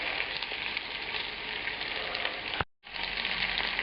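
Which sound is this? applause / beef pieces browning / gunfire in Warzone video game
beef pieces browning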